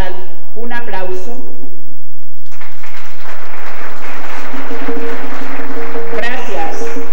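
An audience applauds for the Afro-Colombian group Vivencia Afrocolombiana y la Diversidad at a Pacific Colombian traditional music and dance event. The broad wash of clapping swells in after a brief stretch of voice and tone and carries on steadily to the end.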